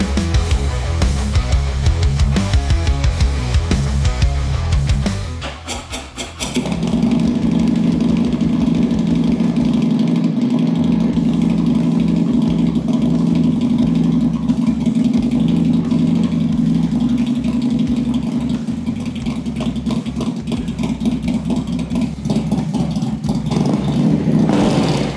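A 193 hp Harley-Davidson CVO RR custom motorcycle, the ST Dominator, rumbles loudly up close, a rough revving burst dropping briefly before settling into a steady, throbbing idle that holds for the rest of the stretch, with no one talking.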